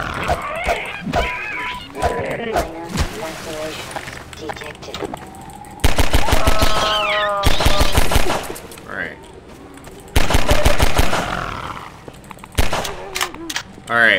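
Rapid bursts of automatic gunfire in the zombie shooter Transmissions: Element 120, several loud clattering volleys separated by a person talking, with a voice mimicking the shots.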